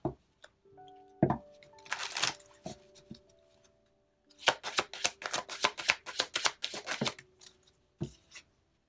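Ascended Masters oracle cards shuffled in the hands, with quick riffling bursts and soft card taps, a pause, then a longer run of brisk papery flicks, close and fairly quiet.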